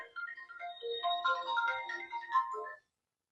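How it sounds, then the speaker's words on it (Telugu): A mobile phone ringtone plays an incoming-call melody of bright, tuneful beeping notes, close and clear, lasting under three seconds before cutting off into silence, with no talking. "ఫోన్ వస్తుంది."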